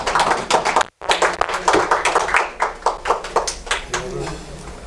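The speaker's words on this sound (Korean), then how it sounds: "우리 김영 목사님 나오실 때 박수 환영해 주십시오." An audience at a Korean community forum lecture applauds to welcome a pastor to the stage, a burst of close, crisp clapping that soon thins and fades, with talk running over and after it.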